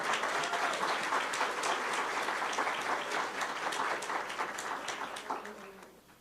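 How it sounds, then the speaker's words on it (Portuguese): An audience at a women's oratory event applauds to welcome a speaker, with steady, moderately faint clapping that slowly tapers off toward the end. "Uma salva de palmas para recebermos, neste momento, nossa palestrante"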